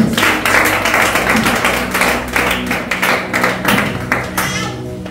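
A church congregation applauds to acclaim Jesus, loud rhythmic clapping from many hands in waves of dense claps mixed with cheering, filling the room throughout.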